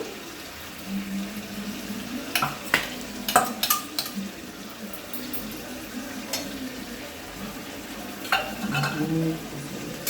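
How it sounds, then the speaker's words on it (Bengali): Chicken is being stir-fried in a pan with poppy seed paste and dried red chili. A steady, close sizzle runs under scattered scraping and stirring clatters from a spoon against the pan, with no speech. "এবার দিয়ে দেবো আগে থেকে শুকনো লঙ্কা ও পোস্ত বাটা এটা দিয়ে আবার একটু কষিয়ে নেব"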